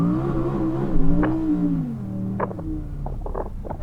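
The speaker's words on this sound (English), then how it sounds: "Dindo, do you want to go out first and do some donuts to warm up your tyres?" A car spins donuts to warm its tyres ahead of a drag race between Ken Block's Hoonitron, an Audi R8 GT and an RS e-tron GT, giving a steady droning engine and tyre whine that bends in pitch, with brief scrabbling bursts.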